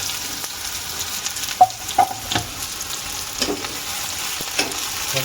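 Onions frying in hot oil in a kadhai for a village-style chicken dish, a steady close sizzle with occasional louder crackles and stirring scrapes, no voices.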